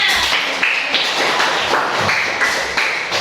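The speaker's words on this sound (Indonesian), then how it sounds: "Tepuk tangan untuk kita semuanya" A school class claps hands together in a steady, continuous rhythmic pattern, loud and close throughout with no pauses.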